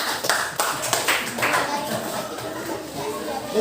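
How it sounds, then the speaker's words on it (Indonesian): Students in a classroom clapping their hands for a group, a burst of sharp, irregular claps that thins out into scattered taps, with voices chattering underneath. "Tepuk tangan dulu untuk kelompok 5."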